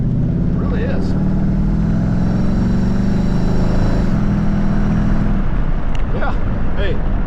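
A 1932 Ford hot rod drives along with a steady low engine drone and road rumble that shifts slightly in pitch partway through, and a voice speaks briefly over it.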